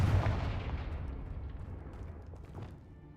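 A Confringo spell blast in the Hogwarts Legacy video game, heard as a loud, deep booming burst up close that rolls away into a long rumbling decay.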